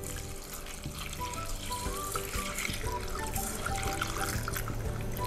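Steady stream of water running and splashing into a pot of rice with pandan leaves, continuous and fairly close, with a busy kitchen hiss beneath it.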